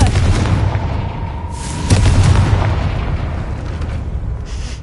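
A Confringo blasting spell explodes in the Hogwarts Legacy video game, a loud booming blast that rumbles under a steady noisy background and peaks about two seconds in.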